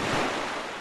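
A splash into water in The Legend of Zelda: The Wind Waker, heard as a short, loud, broad wash of water and surf-like noise that fades slightly over under a second.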